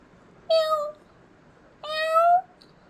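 Two drawn-out meows voiced by a child imitating a cat, separated by a short pause, clear and close against quiet background.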